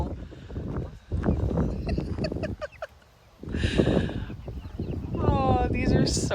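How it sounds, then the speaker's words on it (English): Free-roaming farm chickens cluck and call in short bursts, close by and fairly loud, mixed with people chatting over them. "the chickens are just roaming around everywhere"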